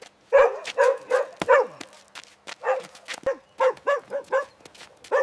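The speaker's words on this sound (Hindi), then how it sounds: "ये साला कुत्ता रोज यहाँ पीछे 3 सालों से भौंक रहा है।" A dog barking repeatedly outside a factory, close and loud, in a run of sharp barks and yips with brief gaps between them, no talking.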